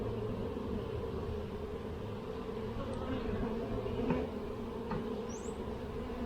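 Honeybees buzz around an open hive during a beginner's inspection, a steady dense drone that holds across the whole stretch with a few louder passes of single bees close by.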